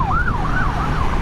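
A police car siren wails close and loud in a steady rising-and-falling sweep, heard from a 2017 Aprilia Tuono Factory motorcycle on a wet road.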